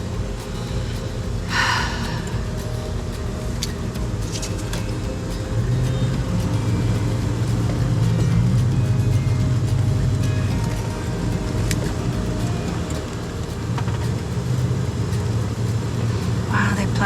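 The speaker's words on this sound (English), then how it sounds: "We'll come through here with this snowplow and get some of this out." A truck fitted with a snowplow drives along, a loud, continuous low engine rumble that swells in the middle, with a few brief breathy sounds over it.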